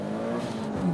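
A Mitsubishi Evo 9 bogging at a race launch, its engine note holding low and strained with a lagging hum, then rising slightly near the end, close and fairly loud.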